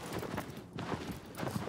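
Hooves of a galloping horse in the video game Shadow of the Colossus thud in quick uneven clusters, a short burst of clip-clop over a dense game background.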